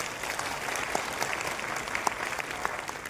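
A large crowd at a Buddhist Dhamma conference claps in sustained, dense applause, many hands overlapping in an even roar with no speech over it.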